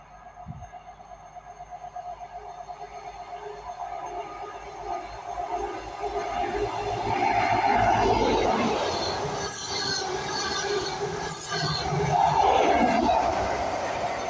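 A train rushes past nearby at South Gyle, building from a distant rumble into a loud whoosh with rattling wheels and faint squeals, no talking.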